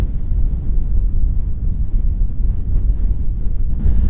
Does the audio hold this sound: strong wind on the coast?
yes